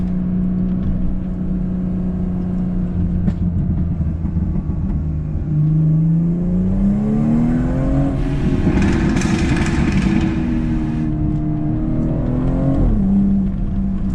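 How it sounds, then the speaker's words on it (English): BMW fitted with an M Performance exhaust revs hard in a tunnel, engine note climbing and falling through held gears with a burst of crackle and pops near the peak, loud and close with no talk. "Try to hold the gears. Hopefully in the tunnel it will crackle."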